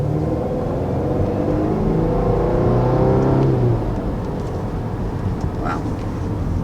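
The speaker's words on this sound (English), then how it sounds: "it actually is a pretty nice sounding vehicle as well" A 2019 Volvo S60 accelerates hard in dynamic mode, its engine note climbing steadily in pitch and loudness from inside the cabin before easing off into a lower, steadier hum with faint road noise.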